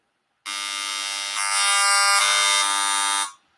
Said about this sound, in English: a cordless phone